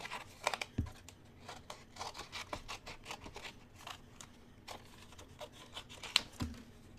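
Quiet, repeated snips of scissors cutting paper, close by, with soft rustling and a few sharper clicks between cuts.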